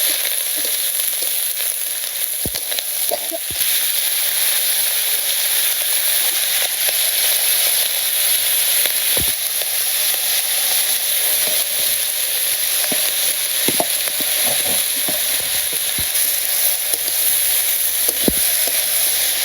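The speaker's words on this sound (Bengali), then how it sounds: "তেল গরম হয়ে গেছে, জিরা রান্না দিয়ে দিলাম। সবজিগুলো দিয়ে দিব।" Cumin seeds and vegetables fry in hot oil in a village kitchen, a loud, continuous sizzle with hissing spatter and occasional sharp pops and clinks of stirring.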